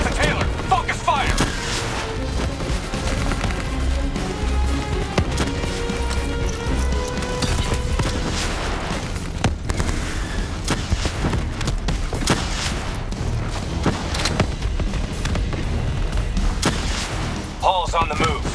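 Dense gunfire and explosive booms from Call of Duty Black Ops 3 during a firefight against a shielded enemy, steady and loud throughout, with rapid shots layered over rumbling blasts and occasional voices.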